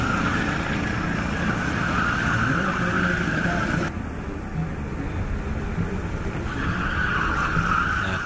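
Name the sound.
go-karts racing on an endurance track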